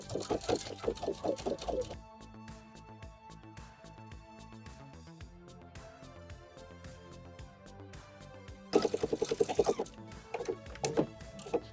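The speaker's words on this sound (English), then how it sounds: "So we're going to be sewing up the side seams with a 1/2 inch seam allowance." A sewing machine stitches the side seams of wide-leg pants at a half-inch seam allowance, with a rapid whirring burst at the start and another near the end, close, over steady background music.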